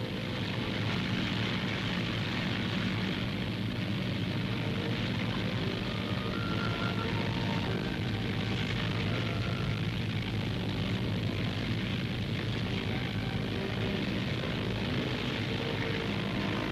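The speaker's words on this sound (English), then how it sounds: "Brabazon moves forward under her own engines" Bristol Brabazon airliner's piston engines droning steadily as the huge aircraft runs along the runway, a continuous broad roar with a deep rumble throughout, loud and unbroken with no voices.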